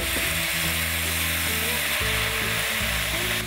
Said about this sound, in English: we're gonna go ahead and add our little bit of white wine just to deglaze the pan